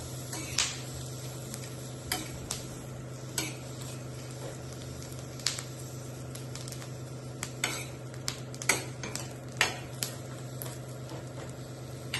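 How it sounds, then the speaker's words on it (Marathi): Green chillies roasting in a pan for Maharashtrian mirchi thecha chutney give a faint, steady sizzle, broken by scattered sharp crackles and pops and light scraping of a utensil, with no voices. "मिरच्या भाजतात त्यामुळे त्याचा टच आवाज यायला सुरुवात होईल."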